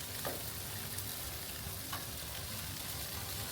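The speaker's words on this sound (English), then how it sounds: "So you want to put them on the grill for about 15 to 20 minutes at most, and it's okay if you start to see bits of it brown and char up" Mushrooms for vegan carne asada tacos charring on a grill, giving a steady, quiet sizzle with a couple of brief pops and no talking.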